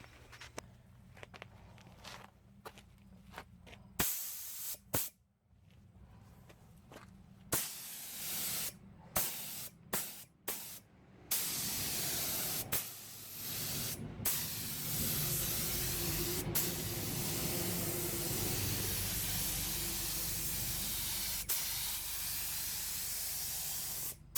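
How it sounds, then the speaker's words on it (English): A spray gun lays 2K primer over a fiberglassed truck cab corner and rockers, starting with short spurts and trigger clicks, then settling into a loud, steady, close hiss of continuous spraying. "So I got 2K primer mixed up, gonna throw it in the gun, bring it back and shoot her on."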